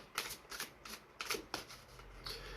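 A deck of oracle cards is shuffled by hand at close range during a live card reading. It comes in a quick series of papery riffles and slaps, several bursts over a couple of seconds.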